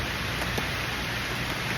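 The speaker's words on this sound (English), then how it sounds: "You can hear the rain starting to hit the rollout." Light rain patters steadily on a camper's rollout awning in a forest, a soft, even hiss of drops close overhead with no voices.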